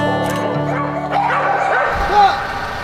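Several dogs bark and yip together in a noisy, echoing dog shelter, with some whimpering and a person talking underneath.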